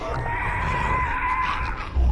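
Terrible, blood-chilling screams in a horror story: a loud, sustained, strained scream holds steady for about two seconds, close and unbroken, with no talking over it.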